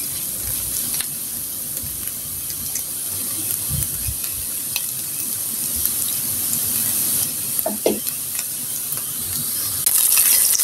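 Garlic and onion frying in a pan give a continuous soft sizzle, with a few faint clinks of stirring near the middle.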